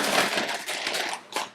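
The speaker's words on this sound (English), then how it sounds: "you want to first eat a potato chip" Close crunching of a potato chip being bitten and chewed in a home kitchen, a dense brittle crackle followed by one sharper crunch near the end.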